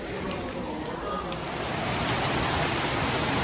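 Steady rain hisses evenly throughout outside a hospital, a dense wash of noise that swells slightly louder toward the end, with no voices standing out.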